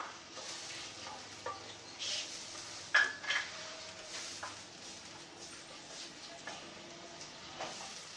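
A spoon stirs garam masala into a pot of ghee and browned onions, making soft scraping and clinking against the pot over a faint background sizzle, with a few louder knocks along the way.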